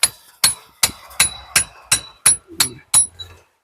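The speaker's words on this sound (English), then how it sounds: "You can get in with a slightly longer chisel." Hammer blows drive a chisel into brick and stonework around a lintel: nine sharp, ringing metallic strikes at a steady, even pace, loud and close, then a short pause at the end.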